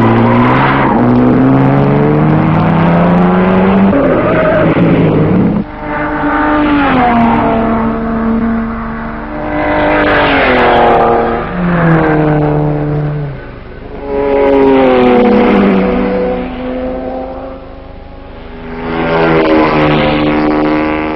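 Race cars at the 1955 Le Mans 24-hour race, including Triumph TR2s and MGs, roar past one after another in a series of loud engine swells, each pitch rising and falling as the cars close in and pull away.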